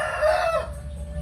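A fighting cock crows once, loud and close, with the call rising and then cutting off, followed by quieter background noise.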